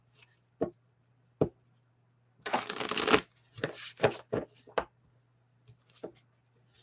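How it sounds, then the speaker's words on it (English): A 78-card tarot deck is shuffled up close: isolated card taps, then a dense riffling burst followed by several sharp snaps and softer taps against a faint steady hum, with no talking. "Just connected with your energy here while I shuffle, and I like to shuffle at least 7 times."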